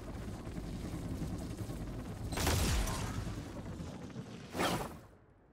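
Vandal rifle shots fired at a training bot in the video game Valorant, heard as short bursts over steady game background noise, one cluster midway and another near the end.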